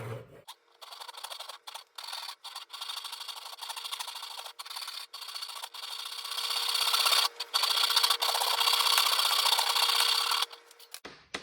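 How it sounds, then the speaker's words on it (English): A Japanese Ryoba pull saw cuts a kerf into wood in a run of rasping strokes, short and broken at first, then longer and louder, close to the microphone with brief pauses between strokes. "I'm going to take my Ryoba and I'm going to create a kerf that wedge is going to fit into"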